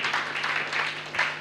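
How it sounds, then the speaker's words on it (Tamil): A church audience claps hands together in a dense, steady patter of applause, fairly close, with a faint voice underneath. "நல்ல கரங்களை தட்டி"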